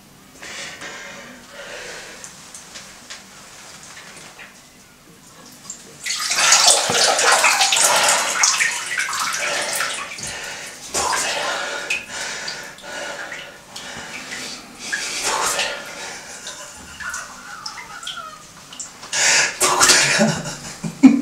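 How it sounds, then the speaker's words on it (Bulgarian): Sink filling with cold water from a tap, a strong rushing gush that starts after a quiet few seconds and pours on steadily, with splashing, snorting and brief coughs mixed in. "потопи си главата в мивката и напълни мивката със студена вода"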